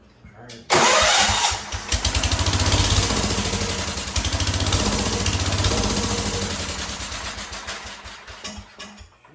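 A Wheel Horse C-160 lawn tractor engine cranks and catches abruptly, then runs loud and rough for several seconds before fading and cutting out, with no talking heard.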